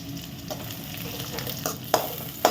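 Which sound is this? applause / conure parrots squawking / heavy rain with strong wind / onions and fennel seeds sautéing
onions and fennel seeds sautéing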